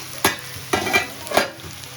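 Potatoes and vegetable stems frying in a pan for aloo posto are stirred three times, each scrape of the spatula a short burst over a steady low sizzle, close up with no talking.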